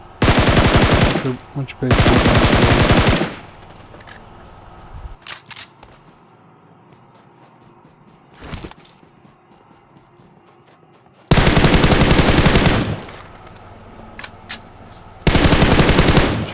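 Bursts of automatic gunfire in the battle royale game PUBG: two long loud sustained volleys at the start, a few brief shots in between, then two more heavy bursts later, with someone speaking briefly.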